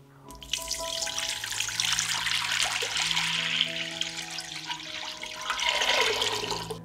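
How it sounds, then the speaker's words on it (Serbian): Two litres of water pour steadily from a tap into a cooking pot, a continuous rushing splash whose pitch rises as the pot fills over several seconds. "U šerpu sipam 2 litre vode."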